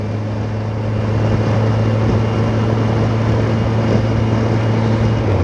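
A Kawasaki Versys 1000 motorcycle from 2021 cruises along a road, its engine holding a steady low drone with constant wind rush and no speech.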